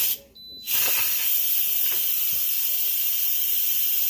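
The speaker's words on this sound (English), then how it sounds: "let that steam out for 10 minutes" An Instant Pot vents steam in a loud, steady hiss after cooking chicken, briefly cut off at the start and then released continuously, close up in a kitchen.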